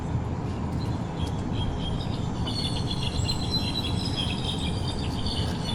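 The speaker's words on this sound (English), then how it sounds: "This bird is just really incredible in its kind of call" Bird calling in El Salvador, a series of high, thin repeated notes over a steady dense bed of insect chirring, outdoor ambience with no talk.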